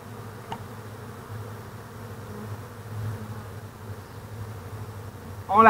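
Honey bees drone softly and continuously around an open Flow Hive while a super is being added, with a faint low hum and a brief louder rustle at the end.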